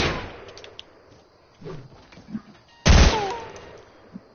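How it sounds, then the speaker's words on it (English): Fortnite gunfire: a few faint scattered shots early, then one loud sharp blast near the end that could be a launched grenade, with small clinks between and no voices. "Bro, I'm shooting."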